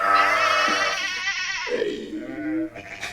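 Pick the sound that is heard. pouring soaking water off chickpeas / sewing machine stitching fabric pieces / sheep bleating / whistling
sheep bleating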